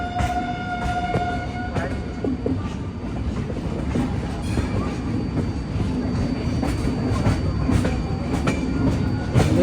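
The Vivek Express pulls into Katpadi Junction, heard from inside a 3AC coach: a loud, continuous rolling rumble with faint rail clicks and squeals as the train slows.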